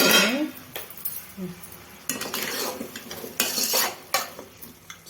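A spoon scrapes and clinks against a pan while stirring salted taro (colocasia) pieces as they cook, repeated metallic stirring strokes over a low sizzle, close and fairly loud.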